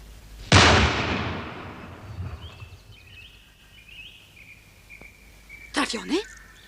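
A single loud gunshot rings out in a period film scene, a sharp crack with a long decaying tail, followed by quiet ambience and then a brief burst of voices.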